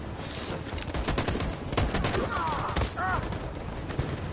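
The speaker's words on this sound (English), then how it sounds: "That machine gun is taking down everything that moves." Machine gun fire in Detroit: Become Human, loud and nearly continuous bursts of rapid shots with some overlapping impacts and no talk.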